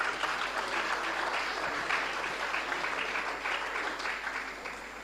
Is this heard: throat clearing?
no